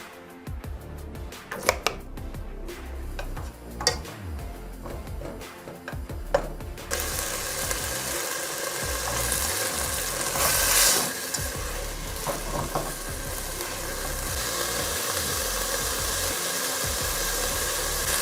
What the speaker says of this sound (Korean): 여기 식용유를 넣고 좀 볶을게요.